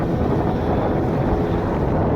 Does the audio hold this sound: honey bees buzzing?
no